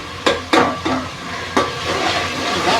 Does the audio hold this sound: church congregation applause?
no